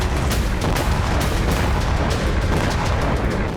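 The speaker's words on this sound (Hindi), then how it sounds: "जहां रूस विस्फोटक बनाता था, वहीं यूक्रेनी ड्रोन से हुआ जोरदार धमाका।" Repeated heavy booms and blasts from a Ukrainian drone strike on a Russian explosives factory and munitions store, loud and continuous with a dense rumbling roar throughout, no voices.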